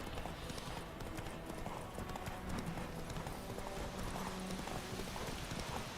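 Roach the horse's hooves in The Witcher 3 video game, a steady clip-clop of footfalls running throughout amid game ambience, with a faint whinny.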